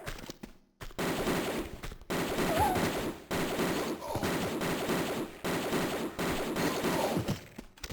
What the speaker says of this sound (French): C'est quand même très agréable le fusil automatique. Il fait vraiment le taf.